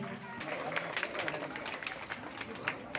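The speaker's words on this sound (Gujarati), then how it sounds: "તાળીઓથી આપણે વધાવશું" A crowd claps steadily for about three seconds at a taluka-level 77th Republic Day celebration in Balana village, Jafrabad, with voices faintly mixed in.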